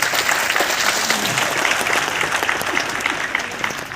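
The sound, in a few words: audience applause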